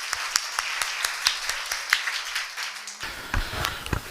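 Worshippers at a church service in Dungarpur clap their hands, heard as a run of sharp, evenly spaced claps over a continuous background of music. Near the end the rhythm turns louder and denser.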